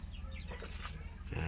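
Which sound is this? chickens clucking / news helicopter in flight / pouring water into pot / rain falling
chickens clucking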